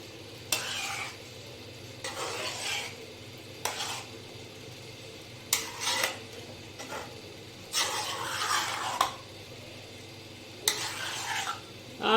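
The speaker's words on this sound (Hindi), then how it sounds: "तो अब हमने ये जो फ्रूट सारा कटिंग किए थे वो इसमें मिक्स करते हैं इस तरह" Fresh chopped fruit is folded into homemade custard, giving repeated short bursts of wet, squelchy stirring and spoon scraping with brief pauses between strokes, close and moderately loud, with no talking.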